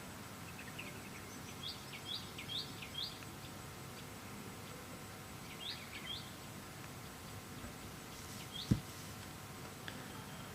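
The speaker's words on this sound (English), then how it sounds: "You can hear the birds chirping in the background." Faint, high bird chirps come in small clusters over a quiet outdoor background at a golf course, distant and intermittent.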